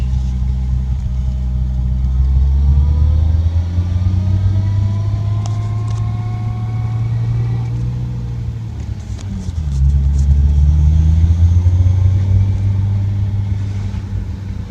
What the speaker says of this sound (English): Just gonna take it for a quick ride up and down the street.